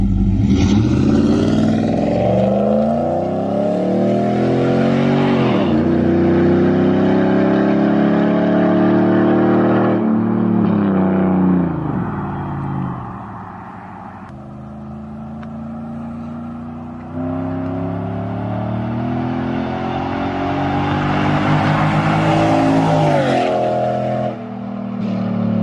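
A Ram 1500 pickup with Cook's long tube headers, a catless Y-pipe and an MBRP exhaust revs loudly and up close, climbing and falling through several long pulls with no talking.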